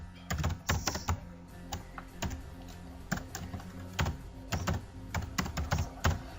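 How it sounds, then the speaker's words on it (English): Rapid, uneven clacking of a loud mechanical computer keyboard being typed on, close up, with bursts of keystrokes and brief pauses. "Sorry for my keyboard because it's very noisy"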